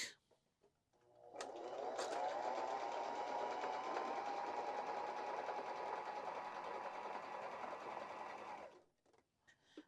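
A BabyLock Joy BL25B sewing machine runs steadily for about eight seconds while sewing a wide rickrack zigzag stitch, a close, even mechanical whir that starts and stops cleanly with no talking.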